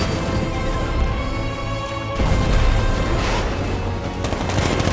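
Rapid gunfire from the riot suppressor gun in Batman: Arkham Knight, a dense sustained clatter of shots that runs loud through the whole stretch with a brief dip midway, layered over rumbling game noise.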